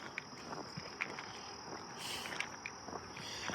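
Insects buzz and chirp steadily along the Appalachian Trail, a constant high whine with faint footsteps and small rustles underneath, quiet and outdoors.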